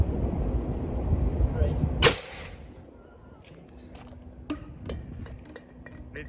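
A homemade duct-tape missile launches down a yard with one sharp, close whooshing pop. Quiet follows, with faint scattered clicks.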